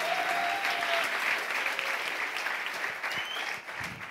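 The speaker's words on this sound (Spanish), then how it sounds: "Démosle otro aplauso a Sebastián" Church congregation applauding together at an evening service, a steady dense wash of clapping at moderate level that fades slightly toward the end, with faint voices underneath.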